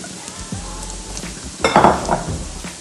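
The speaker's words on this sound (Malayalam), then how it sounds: "ഞമ്മിയിട്ട് നമുക്ക് അതേ എണ്ണയിൽ തന്നെ നമുക്കിത് വാരിയിട്ടിടാം." Ingredients with grated coconut tipped into hot oil left from frying chicken, a soft steady sizzle that swells into a louder burst of crackling as the food lands, with light scraping from a utensil.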